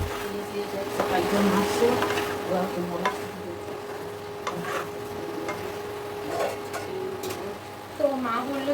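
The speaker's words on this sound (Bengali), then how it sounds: "এবারে এটাকে একটু নেড়ে তারপর জল ঢেলে দেবো।" Eggplant with cumin powder fries in a pan as it is stirred, a low continuous sizzle with scattered scrapes and clicks at moderate distance, with a faint steady hum underneath and no clear talk.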